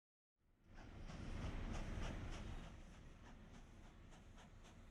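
Trains rumble along the tracks in the railway-building video game Mashinky, a steady rolling clatter with faint rhythmic clicks that fades in and swells before settling, with no talk.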